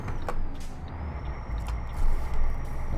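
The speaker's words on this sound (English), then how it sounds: "I hear all the pneumatics." Air brakes of a Volvo F16 truck in Euro Truck Simulator 2, with short pneumatic hisses and releases over a low, steady engine rumble.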